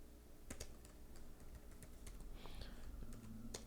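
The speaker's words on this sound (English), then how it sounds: "you do need to type in the prefix" Keys clatter on a computer keyboard in quick, irregular bursts of crisp clicks, close but fairly quiet, with no one talking.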